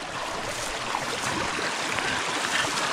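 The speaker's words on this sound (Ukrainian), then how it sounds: "О, струмочек." A small forest stream in the Carpathian woods gurgles and splashes steadily nearby at a moderate level, with no voices.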